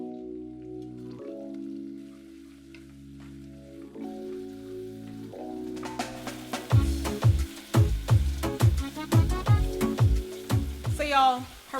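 Red onion sizzles as it sautés in a pot for vegan Dominican rice and peas, the crackle rising after a quiet start and continuing steadily under a person talking.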